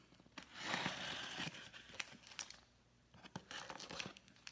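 Plastic or paper packaging being cut and torn open with a Cold Steel Recon 1 folding knife during an unboxing, giving a close run of tearing and crinkling with sharp slicing bursts and brief pauses, no talking.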